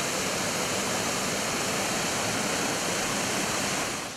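Sızır waterfall in autumn, a dense, steady rush of falling water heard up close, broadband and unbroken for the whole stretch, with no voices over it.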